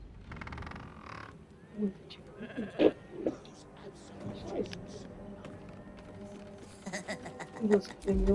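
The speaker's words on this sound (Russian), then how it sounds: "я уже ненавижу эту овцу" A sheep bleats in the video game Baldur's Gate 3, with several short, wavering calls scattered through the clip among game sounds and voices talking.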